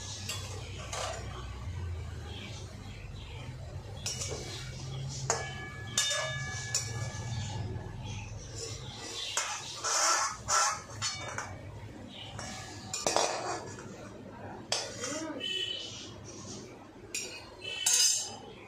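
A pot of pointed gourd lifted off a kitchen stove, light clinks and metallic knocks of cookware scattered over a low steady hum, with someone talking at times.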